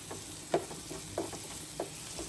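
A spoon stirs turmeric and chilli powder through hot oil in a frying pan for chicken samosa filling, with a light sizzle and three soft scrapes spaced evenly, close by and without talk.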